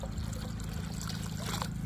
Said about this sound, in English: container of water for the fountain